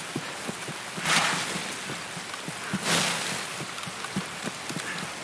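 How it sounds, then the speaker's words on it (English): Rain falls in Escape From Tarkov as a steady hiss, with two louder swells and scattered soft ticks and taps, and no one talking. "The rain is good. That means we can hide our tracks."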